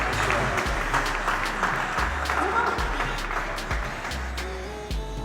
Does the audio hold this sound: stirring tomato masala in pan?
no